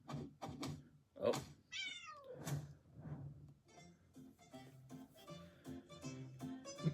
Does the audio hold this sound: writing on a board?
no